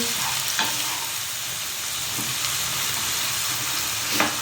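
Garlic fries in a pan with a steady, close sizzle that lasts the whole clip, with a few soft stirring clicks and no talking.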